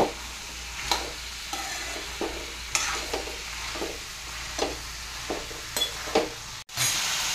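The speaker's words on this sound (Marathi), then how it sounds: "तर 5 मिनिटं आपल्याला असंच परतून घ्यायचे" Vegetables including carrot sauté in a pan for Maharashtrian bhogi bhaji: a soft steady sizzle with intermittent scraping stirs of a spoon against the pan, fairly quiet, with no talking.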